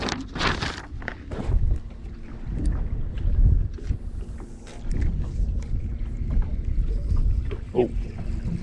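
A fishing boat's outboard motor runs on calm water during a morning flathead fishing trip, a steady low drone mixed with wind buffeting the microphone, some knocks and brief sounds of movement on board.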